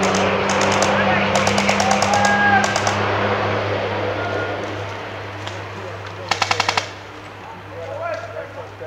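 Airsoft gunfire crackles in rapid bursts during an outdoor escort-the-president game, with several short volleys and a sharper close burst near the end, heard over steady background hum while players talk.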